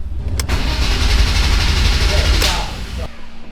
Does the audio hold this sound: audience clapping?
no